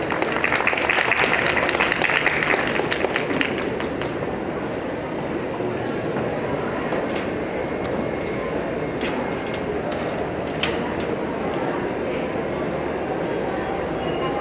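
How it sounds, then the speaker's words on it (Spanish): An audience at a Spanish-language medical talk on hypertensive crises claps to welcome the speakers, a dense, steady applause that is loudest at the start and gradually thins, with scattered sharper claps later. "Un fuerte aplauso para recibirlos, por favor"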